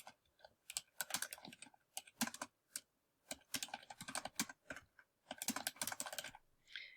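Bursts of computer keyboard typing, close and crisp, in quick irregular runs of keystrokes separated by short pauses, with no talking.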